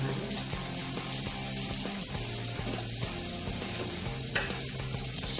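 Coriander vadi shallow-fries in oil, giving a continuous soft sizzle with light spattering and a faint clink near the end, close but moderately quiet, with no one talking.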